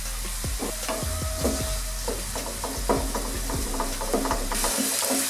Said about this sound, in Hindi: हमने अच्छे से हिला लिया।